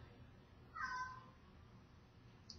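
A cat gives a single short meow at a distance, faint over quiet room noise, followed by a tiny chirp a moment later.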